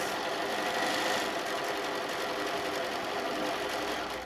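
Sewing machine stitching a pieced quilt border, a steady fast mechanical whirr running continuously at moderate level with no voices.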